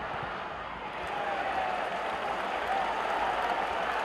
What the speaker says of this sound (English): Crowd likes the effort from Jefferson Valladares.